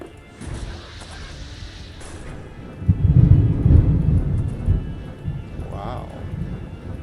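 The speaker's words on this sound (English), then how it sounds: "Thunderstorm is really starting to pick up there" A game thunderstorm in Diablo 2, where a heavy low crash of thunder swells in after a quieter opening and then rumbles off with a hiss of rain underneath.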